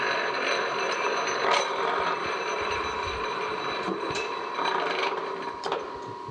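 Horizontal boring mill in a machine shop with its spindle starting up, a steady mechanical rumble and whir with occasional clunks and clicks, close and alone.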